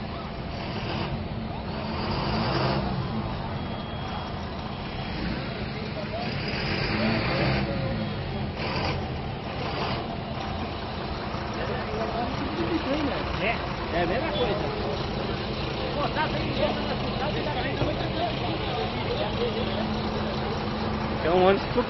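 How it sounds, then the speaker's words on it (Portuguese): A very large city bus idles at a São Paulo event, its engine a steady low rumble throughout while someone talks over it nearby. "É um ônibus super grande, pessoal."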